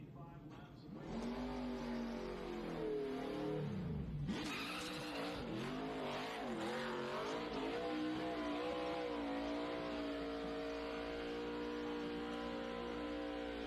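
An ARCA Menards Series West race car does a victory burnout at Kern County Raceway Park, its engine revving hard and wavering in pitch over squealing tires, loud and continuous.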